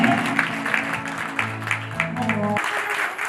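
At a Baba Lal Ji satsang in Trikuta Nagar, Jammu, the audience claps for the singer, brisk applause that rises and falls over a sustained droning musical tone.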